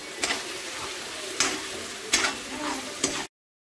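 Onion paste frying and sizzling in a pan for fish curry, with a steady hiss and a few brief louder stirring scrapes at irregular moments, close and moderately quiet.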